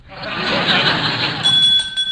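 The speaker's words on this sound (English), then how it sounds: "Oh, darn that bell." An electric school bell rings near the end of a classroom scene in an old radio comedy, a steady high metallic ring starting loud after a stretch of murmuring crowd noise.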